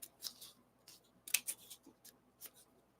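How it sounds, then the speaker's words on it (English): Scissors snipping a diamond painting sticker sheet, several crisp separate cuts and paper rustles at an uneven pace, close and quiet with no speech. "I get my scissors and I cut it roughly that wide."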